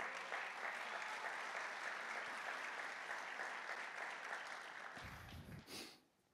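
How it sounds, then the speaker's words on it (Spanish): A congregation at a church service applauds in a steady, dense round of clapping that holds for several seconds, then thins and dies away at the end. "Eso se merece un aplauso al Señor."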